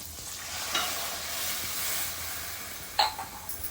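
Fish curry (yekru fish kalvan) with masala and water being stirred in a pan, a steady close sizzle and scraping with two brief sharper clinks, no talking.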